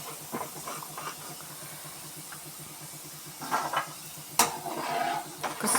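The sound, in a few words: tapioca slices frying in hot oil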